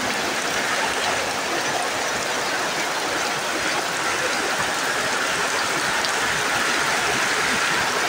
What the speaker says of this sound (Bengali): বৃষ্টিতে সব ভেসে যাচ্ছে, ভেসে যাচ্ছে, ভেসে যাচ্ছে সব